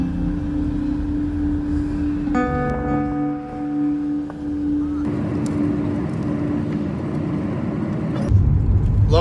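A car on a long drive hums along while towing a trailer, with the boot and trailer both fully loaded with Land Rover parts. Road rumble and engine noise stay steady, with a louder rush near the end.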